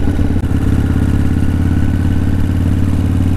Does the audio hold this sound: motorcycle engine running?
yes